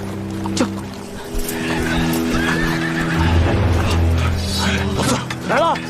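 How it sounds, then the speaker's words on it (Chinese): Horse neighs and whinnies ring out over tense music and mixed drama sound effects, with a loud, rising whinny near the end, in a Chinese action drama scene. "好像有马蹄声。"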